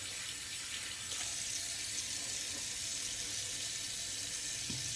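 A tap runs steadily, a constant hiss of flowing water at moderate level with a faint knock near the end.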